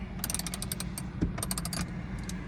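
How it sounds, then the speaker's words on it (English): Ratcheting wrench clicks in quick bursts as a sun visor screw is tightened in a Nissan Pathfinder, close and fairly quiet, with several rapid runs of clicks and short pauses between them. "now you're gonna go tighty-righty, take the wrench."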